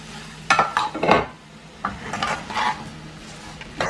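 Sugar being stirred into a cooking mixture in a pan over medium heat for an Eid dish: a few close, rasping spoon strokes over a faint sizzle, in uneven bursts.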